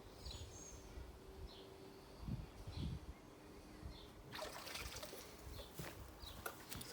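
Pond water poured from a child's watering can rinses a pressurised pond filter, starting as a quiet trickle with a few soft drips, then becoming a denser splashing flow for the last few seconds.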